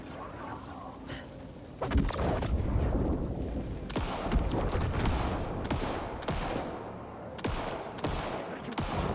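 Gunfire rings out in the video game Alan Wake II as a series of sharp, loud shots in quick irregular bursts, each followed by a booming echo, with a few separate shots after that.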